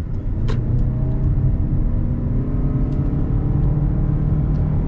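A 2021 Lexus NX 300h hybrid pulls away from a standstill in sport mode, heard from inside as a steady, loud engine hum and road rumble with a few faint clicks, no voices.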